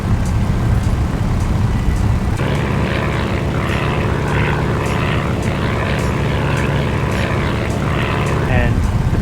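A Bf 108 Taifun propeller plane in flight in a flight simulator, its engine droning loud and steady with a rhythmic pulsing throb, continuous and close throughout.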